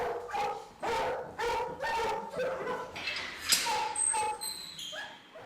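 Several dogs at a dog pound bark in a steady run of repeated yips and bow-wows, with occasional higher whimpers mixed in, fairly close and loud throughout.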